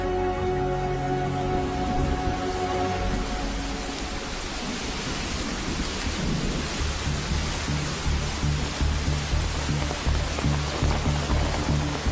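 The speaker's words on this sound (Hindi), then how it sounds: "बरसात तो रुकने का नाम ही नहीं ले रही है भैया" Steady, dense rain falling without a break for the whole stretch, a continuous broadband hiss with faint low tonal hum underneath and no voices.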